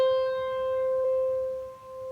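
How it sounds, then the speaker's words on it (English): A single high-register piano note rings clearly and steadily, decaying slowly, fairly quiet and alone. "And to the right, we can produce a higher pitch like this."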